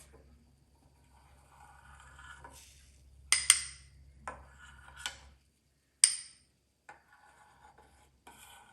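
A metal utensil skimming foam from a simmering pot of chicken velouté, giving faint scrapes and a few sharper clinks against the pot over a low background hum.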